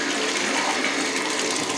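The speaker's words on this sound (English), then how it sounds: "so when I plunged, it was actually using the force of the water back and forth to dislodge" A plunger forces water back and forth through a slow tub-and-shower drain. The water rushes and gurgles steadily at close range, with no talk.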